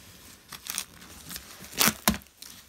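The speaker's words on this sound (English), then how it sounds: "We gotta cut the box open." A cardboard box is cut open at close range, a series of short scraping, tearing bursts with two louder rips near the end, irregular and fairly quiet with no talking.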